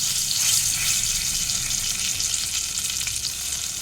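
Whole garam masala, two dried red chillies and a bay leaf sizzle in hot oil, a steady close hiss and crackle of frying spices that runs without a break, with no voices.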